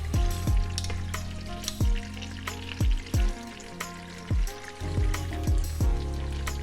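Oxtails searing in a pressure cooker pot, a steady loud sizzle with intermittent bursts and several sharp knocks and clunks of metal against the pot, close up with no talking.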